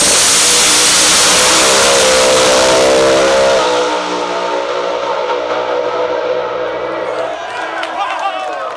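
Pro Mod drag race cars, one supercharged and one turbocharged, run side by side: a loud, sustained engine roar fades as the cars pull away, followed by farther engine tones with a crowd in the background.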